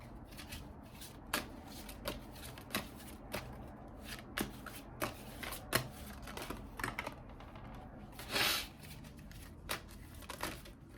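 Cards are shuffled and laid down during a psychic reading, giving quiet, close riffles and crisp taps in an irregular rhythm, with one longer riffle near the end.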